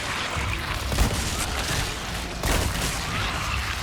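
Gunfire in Resident Evil 4 Remake comes as loud, dense blasts and booms over a noisy backdrop, with sharper bursts near one second and again around two and a half seconds.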